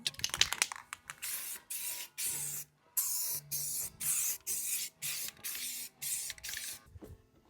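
Spray paint hisses in repeated short bursts as a second coat goes onto a 1952 GMC truck, about a dozen close passes separated by brief pauses, with no talking.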